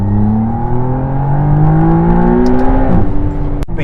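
A 2023 McLaren Artura V6 hybrid car accelerating hard, its engine note rising steadily in pitch, loud and close from inside, with a brief dip at a gear change near the end.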